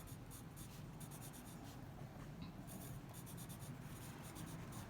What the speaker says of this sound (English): So I'm going to write small moment.